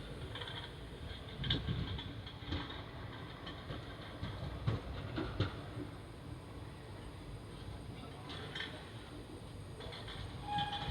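Koyna Express passenger train running on rails, a steady low rumble with faint intermittent clicks and clatter of the carriages throughout, no talk.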